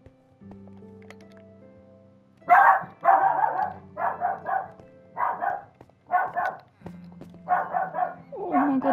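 A dog in the Minecraft video game barks in a quick series of sharp, close barks, several in short bursts, following a quieter stretch of low game background sound.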